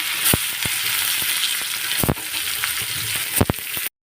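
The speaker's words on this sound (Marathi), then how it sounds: "ही वांगी चांगली तेलामध्ये फ्राय करून घेऊया" Boiled, spice-stuffed eggplants fry in oil in a kadai, a loud close sizzle with several sharp spatula knocks and scrapes scattered throughout before it cuts off.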